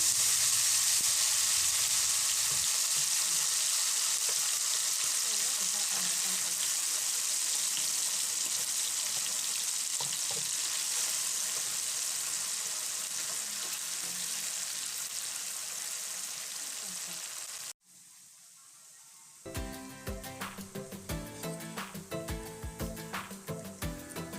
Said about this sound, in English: the gizzard is well cooked, so I will also be frying it